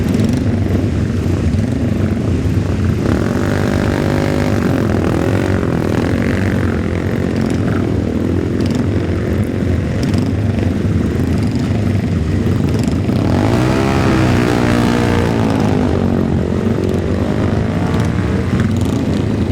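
Racing motorcycles at the Senior Classic TT, including a 500cc Vincent Grey Flash, give a loud, continuous engine roar with a rising and falling revving pitch as machines pass close by, with no talk.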